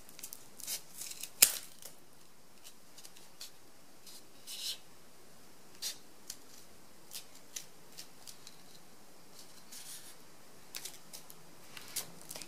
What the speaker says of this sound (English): And then you just cut around the edges.